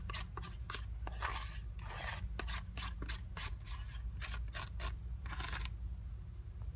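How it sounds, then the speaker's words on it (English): A utensil scrapes a Greek yogurt mixture into a bowl in a series of short, close rasping strokes with brief pauses between them, quiet and without speech. "So then I'm going to scrape"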